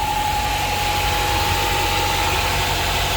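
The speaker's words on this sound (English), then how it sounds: "It's finally idling." A Honda Prelude with an H22 engine idles steadily after a vacuum-leak repair, a smooth, even low rumble with a constant hum and no surging, close and loud without talk.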